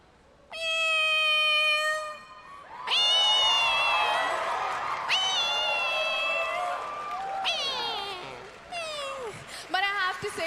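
A woman gives a run of loud, drawn-out meows imitating a cat, several in succession with rising and falling pitch, while a crowd reacts and cheers around them.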